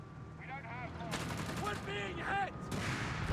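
Artillery shells from a creeping barrage burst in rapid succession in the Company of Heroes 3 strategy game, with sharp booms arriving in clusters amid layered battle noise while a commentator's voice continues underneath.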